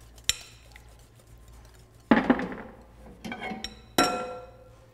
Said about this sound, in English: Make sure that you stir the whole time that you're adding your milk mixture in.